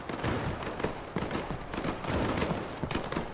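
Rapid bursts of gunfire in the World War II shooter Battalion 1944, dense overlapping shots in quick succession at moderate volume, with no talking.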